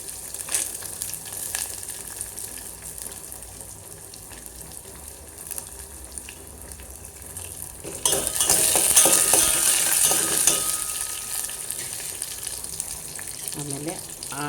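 Cumin, chillies and peanuts frying in hot oil for a spicy sabudana soup, a steady broad sizzle that swells louder and brighter midway as ingredients hit the pan, with faint stirring and no talk.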